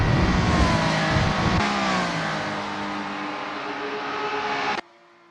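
Lotus 2 Eleven race cars run nose to tail around Spa-Francorchamps in Assetto Corsa, their engines roaring loud and steady with a rising and falling pitch, until the sound cuts off abruptly near the end.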